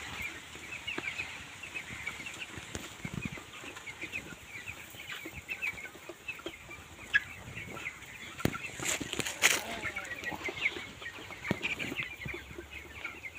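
Broiler chicks on a village poultry farm kept on husk litter cheep and cluck faintly in a continuous high chatter, with occasional soft rustles and taps, all at low level.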